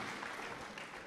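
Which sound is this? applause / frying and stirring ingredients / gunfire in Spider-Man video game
applause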